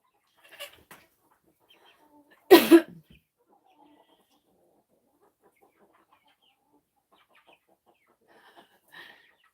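Chickens on a rural homestead cluck loudly in one short, dense burst, with a few fainter scattered calls before and after across otherwise quiet surroundings.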